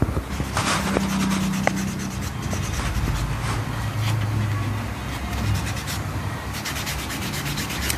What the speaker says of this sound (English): And when buffing, you buff in one direction.